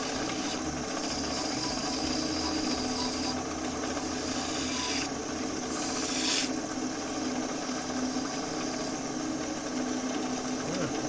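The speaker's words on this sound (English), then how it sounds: "We are into sanding." Sandpaper rubs against a wood turning spinning on a lathe, giving a steady, close, continuous hiss and rasp with slight swells, no voices.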